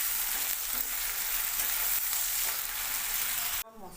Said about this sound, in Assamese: অলপ নিমখ দি ভাজি ল'ম